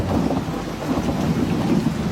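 Heavy rain pours steadily in a dense, hissing wash, loud and close, with a low rumble underneath and no voices.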